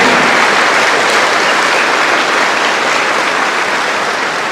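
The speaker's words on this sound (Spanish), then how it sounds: "vamos a darle un aplauso al padre por ese conocimiento que tiene" Sustained audience applause for a priest at a public preaching event, a loud, even roar of many hands clapping that holds steady throughout with no talk over it.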